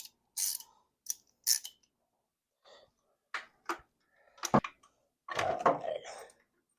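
Ratchet wrench with a 9/16 socket clicking on a bolt during a Progression ignition install: a handful of short, quiet, close ratcheting and metallic clicks scattered with pauses, no talk.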